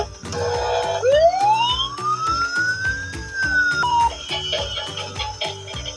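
A toy car's ambulance and police siren wails, its electronic pitch sweeping upward and holding, over a busy rhythmic clatter of background music and beeps.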